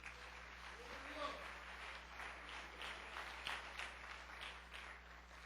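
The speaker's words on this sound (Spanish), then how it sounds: "Ponte de pie, dale un aplauso al Señor." Applause from a church congregation, steady and fairly faint, continuing through the whole stretch with a low hum beneath.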